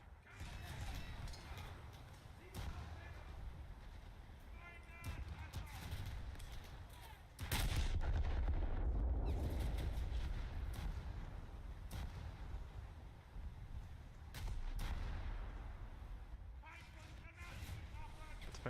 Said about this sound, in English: those US battleships ought to stop shooting at me